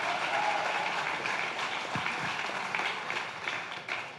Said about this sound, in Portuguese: Esses dias, pode aplaudir